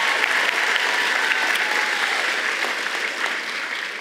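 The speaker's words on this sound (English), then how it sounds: "Give him a big round of applause again." Steady audience applause at a gala ball, a dense wash of many hands clapping loudly and evenly for about four seconds with no talk over it.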